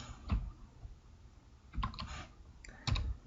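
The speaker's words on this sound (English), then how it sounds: "Sorry, I'm typing so slow." Keystrokes on a computer keyboard come in three short, separated bursts of clicks, close and fairly quiet, with no voice present.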